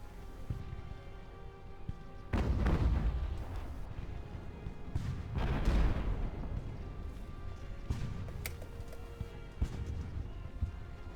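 Cannon fire from an enemy ship in the naval game Ultimate Admiral: Age of Sail, several heavy booming volleys, two big broadside roars followed by lighter shots, each trailing off into rumble.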